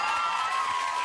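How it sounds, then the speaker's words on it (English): A studio audience on a talk show claps and cheers in a dense, steady wash of applause lasting about a second. "And now half the audience is clapping."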